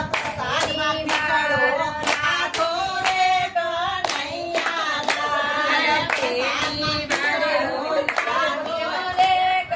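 Hands clapping in steady rhythm during a Gujarati devotional bhajan, sharp evenly spaced claps ringing out over a singing voice throughout.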